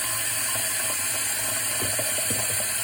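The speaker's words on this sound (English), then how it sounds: "You just run a little water in there, make them soak." Tap water runs steadily into a bowl of red beans set to soak, a constant hiss with a few soft splashy gurgles toward the end and no talking.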